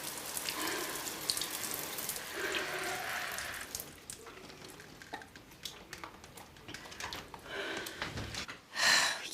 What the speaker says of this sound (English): will you just turn the water off?